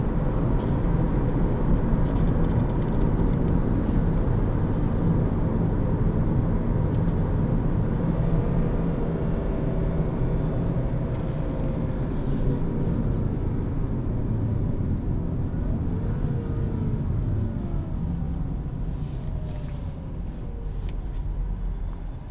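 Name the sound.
2013 Volkswagen Passat 2.5L five-cylinder engine braking at high RPM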